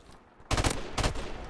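In the Modern Warfare Remastered gun game mode, an AK-74U fires two loud, close bursts of rapid automatic fire separated by a short pause.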